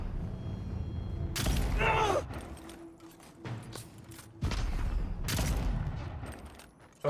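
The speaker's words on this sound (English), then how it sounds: "the two-handed guns are so good" Two-handed guns firing in the video game Avowed: dense bursts of loud, booming gunfire in two long volleys, separated by a quieter gap with scattered rattles and mechanical clicks.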